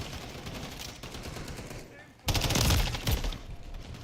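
Rapid automatic gunfire from Call of Duty Modern Warfare III, a MTZ-556 rifle among the weapons, starts with a dense distant rattle, then bursts louder and closer after a brief lull, with a radio voice faintly under the shots.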